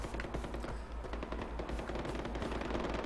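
Rapid automatic gunfire from the video game Far Cry 4, dense bursts of shots continuing steadily throughout at a moderate distance, with no talk.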